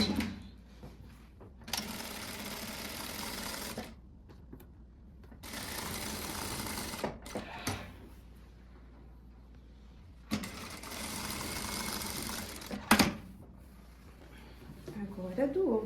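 A sewing machine stitches a blouse armhole seam in three sustained whirring runs separated by pauses, close and clear, with brief handling clicks between bursts.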